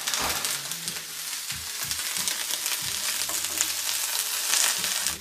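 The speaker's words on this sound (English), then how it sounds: "You grab one of these here, stir it up, stir it up." A Thai vegetable stir-fry with chili sizzles loudly in a pan with sesame oil, while a utensil scrapes and stirs in an uneven rhythm of repeated strokes. The frying stays close and steady throughout, with no talking.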